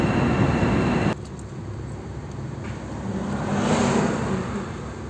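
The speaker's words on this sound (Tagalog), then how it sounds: "Traffic dito mga kaibigan." Steady road traffic at night along a stretch under repair, heard from inside a moving Mazda Familia 323: a continuous broadband rumble that drops suddenly early on, then slowly swells louder toward the end.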